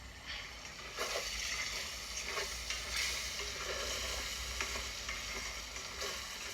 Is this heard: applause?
no